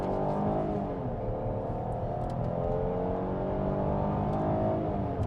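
Minivan or SUV pulling away from a standstill under full acceleration with three people aboard, engine note rising steadily and loud from inside the cabin, no talking.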